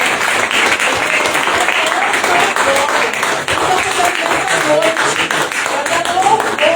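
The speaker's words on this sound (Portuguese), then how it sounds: "Vamos fazer uma salva de palmas para o nosso Deus." A church congregation applauds to praise God, with sustained, dense clapping from many hands filling the room at full volume throughout.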